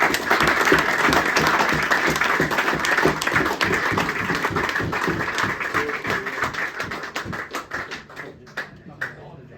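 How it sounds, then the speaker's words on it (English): A crowd at a football supporters club awards night claps steadily, dense applause that holds strong and then thins out into scattered claps toward the end. "They do deserve a round of applause"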